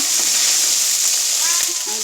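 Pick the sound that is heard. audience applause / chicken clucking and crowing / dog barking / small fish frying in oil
small fish frying in oil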